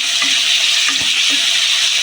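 Grated carrot, beetroot and green chillies fry in a pan with a loud, continuous sizzle, with faint stirring scrapes underneath and no voices.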